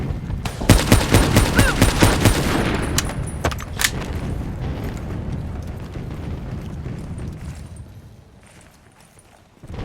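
Rapid bursts of automatic gunfire crackle loudly in a Call of Duty Black Ops 3 battle, dense at first and then thinning into scattered shots over a rumbling, chaotic background.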